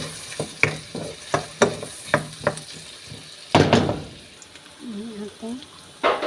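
Onion frying in butter and olive oil in a pan for chicken pasta, with repeated sharp stirring scrapes and clatters over a steady sizzle, then a louder burst and a short hum of voice.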